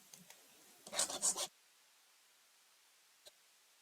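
Chalk or marker scratching out a short burst of writing on a classroom board during a math lesson, faint and close, followed by quiet and a single small tap.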